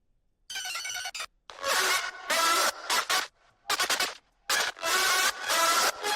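Choppy, heavily processed pitch-shifted vocal layers with shimmering, smeared spectral harmonics, cut into abrupt bursts separated by short silences.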